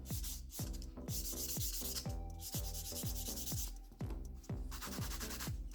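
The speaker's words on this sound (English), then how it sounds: "I'm going to go over with my Elite Buffer. This is just going to remove any nail file marks and smooth out" A nail is smoothed with an Elite Buffer: quick, regular back-and-forth rubbing strokes, close and continuous, over faint background music.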